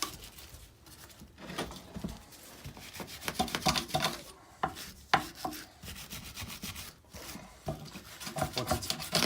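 Metal parts of a Gravely cultivator are scrubbed by hand in a workshop, close, uneven rasping and rubbing strokes in irregular bursts with brief pauses between them.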